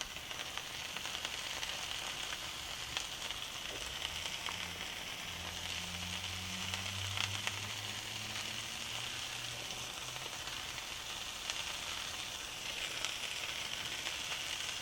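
A mac and cheese omelette with mozzarella sizzles steadily in a frying pan, a soft continuous crackle at low volume with no other sounds over it.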